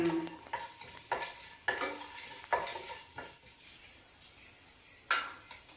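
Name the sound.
cumin seeds frying and being stirred in a pan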